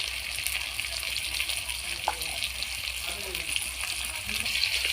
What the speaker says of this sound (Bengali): কষে নিচ্ছি ভালো করে কষে নিচ্ছি